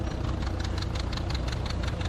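A 1941 John Deere B tractor engine running at a working vintage tractor event: a loud, steady, rhythmic chugging knock heard close up and alone throughout.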